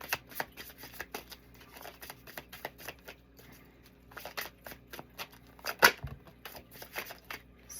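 Tarot cards being shuffled close by, with a run of quick, crisp riffles and slaps that come in bursts, ending in one sharper snap near the end.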